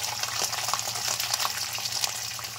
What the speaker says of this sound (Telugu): ఎండుమిర్చి కూడా వేయించేసుకున్నాము